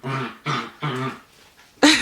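A pet dog lets out a short series of barks or whimpering yelps indoors, three close bursts and then a louder final one, with no talk over it.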